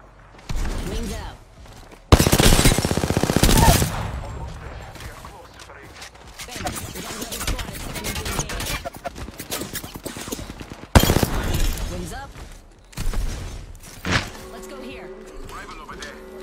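Gunfire in a battle royale video game, several loud bursts of shots and impacts spread across the stretch, mixed with game sounds and a voice talking between and over them.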